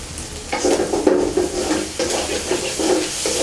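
Water lilies frying in a pan, stirred often with repeated scraping strokes over a constant loud sizzle, close and without talk.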